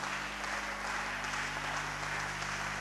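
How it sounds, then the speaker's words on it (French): Steady applause fills a church congregation, a dense continuous patter of many hands held at an even level with a low hum underneath and no voices breaking through. "Une fois de plus, de l'applaudissement pour la gloire du Seigneur."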